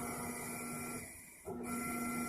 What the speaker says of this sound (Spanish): Se siente el motor moverse, pero la ropa no se mueve para nada.